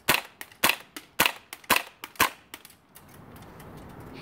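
Airsoft UMP-45 gun firing BBs, about ten sharp snapping shots in quick, irregular succession, then the firing stops and only a faint hiss remains.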